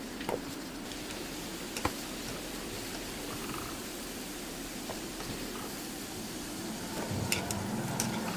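Pieces of raw banana fry in plenty of oil in a pan with a soft, continuous sizzle and a few faint clinks, steady throughout and slightly louder at the end.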